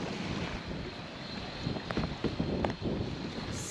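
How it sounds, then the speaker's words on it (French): Wind buffets a sailboat on open water, a steady loud rush of gusts with a few brief knocks and creaks from the boat, without talk. "vous êtes dans le vent, hein."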